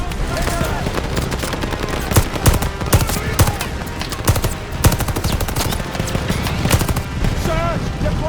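Heavy, sustained gunfire in the video game Call of Duty: Vanguard, rapid machine gun bursts mixed with single shots and explosions in a loud battle, with voices shouting among the noise.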